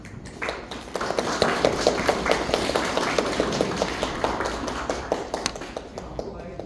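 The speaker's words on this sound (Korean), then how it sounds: "박수." An audience claps and applauds at a youth talk event for a labor party as panel guests are introduced, a dense, steady patter of many hands filling the room for several seconds.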